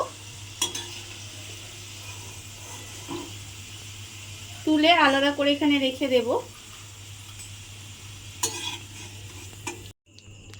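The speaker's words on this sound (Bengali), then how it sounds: "টিফিনগুলো আমার এখানে লাল করে ভাজা হয়ে গেছে।" Tiffin snacks deep-fry in oil until reddish, with a low steady sizzle and occasional stirring clinks running beneath a short stretch of speech.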